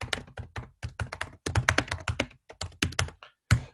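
Typing on a computer keyboard while writing in the browser version of Microsoft Word, a close run of quick uneven keystroke bursts with short pauses, no talking.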